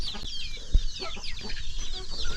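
Chickens clucking on a village farm in rural Laos, with repeated overlapping clucks and chatter at close range and a sharp knock partway through, with no talk.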